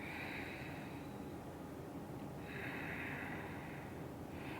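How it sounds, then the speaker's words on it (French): Slow, deep breaths during a yoga breathing exercise, steady and close, with airy inhales and exhales running continuously and no talking. "On respire."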